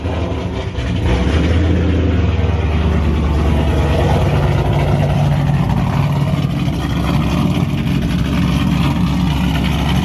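A Ford Mustang engine idles loud and close through long-tube headers, a short X-pipe and Roush Extreme mufflers, close to a straight pipe, giving a deep, steady rumble that holds for about ten seconds with no talk.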